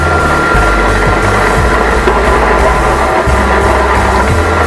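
A GQ50 iron bar cutting machine runs unoiled, a loud, constant close mechanical drone with a low rumble and faint knocks, no voices.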